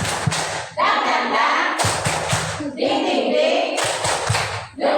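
Schoolchildren in a classroom clap together in a rhythmic clapping routine, loud repeated bursts of synchronized hand claps and thumps mixed with chanted voices.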